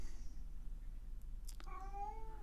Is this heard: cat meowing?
yes